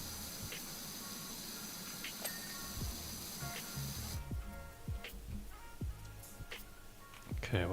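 A Powerwash Simulator 2 pressure washer with a turbo nozzle sprays in a steady, close hiss that runs throughout, with scattered knocks and clicks over a low rumble.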